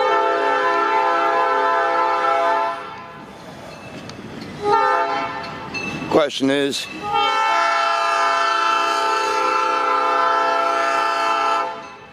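A Duluth, Missabe and Iron Range Railroad train hauling converted ballast cars sounds its loud air horn in long sustained blasts, briefly breaking off mid-way before resuming, with rumbling wheels beneath and a short spoken remark partway through.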